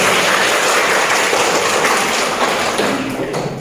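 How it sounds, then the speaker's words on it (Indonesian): Dense, continuous clapping from a school workshop audience, a broad even wash of hand claps that slowly tapers off toward the end, with no voices over it. "Kasih tepuk tangan dong."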